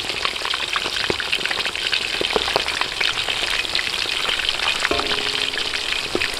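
Jumbo prawns frying in hot cooking oil at an outdoor cooking setup, a loud, steady, dense sizzle and crackle filling the whole stretch with scattered pops and a faint stirring knock near the end.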